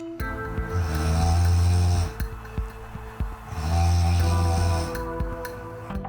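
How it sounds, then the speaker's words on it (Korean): A woman asleep with the TV on snores heavily, two long, loud, rasping inhalations separated by a quieter breathy pause, close and alone. "잠이 들기 무섭게 코를 골기 시작했다"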